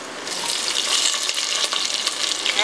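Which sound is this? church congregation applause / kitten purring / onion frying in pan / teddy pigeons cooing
onion frying in pan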